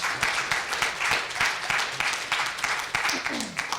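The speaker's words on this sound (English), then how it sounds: "Let's give Esther a round of applause, please" Sustained applause from an audience, a dense wash of clapping that continues steadily throughout.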